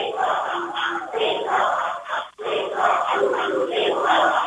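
Lebo fans cheer during a girls 1A Division II state championship basketball game in a gym, a loud sustained crowd roar with rising and falling yells, briefly dipping midway before surging again.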